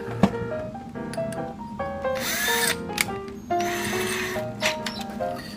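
A power drill whirs through wood in two short bursts, separated by quieter tool handling and clicks, during a garden bench rebuild.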